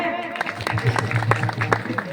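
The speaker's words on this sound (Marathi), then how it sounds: "वाजवा टाळ्या." Audience at a Marathi kirtan clapping in scattered bursts, the claps fairly close and mixed under voices and crowd murmur.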